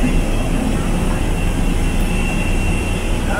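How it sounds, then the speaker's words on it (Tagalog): A large airplane's jet engines roar loud and steady at an airport terminal, a constant close whine with no breaks. "Ito yung aeroplano namin, malaki."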